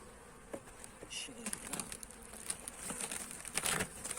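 Insects buzz around an opened hive, a busy hum broken by scattered louder passes and faint clicks close by.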